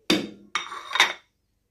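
Whole garam masala spices, cinnamon, black cardamom, cumin and black peppercorns, tipped into a cooking pot for chicken korma, giving three quick hard clattering hits against metal, then silence.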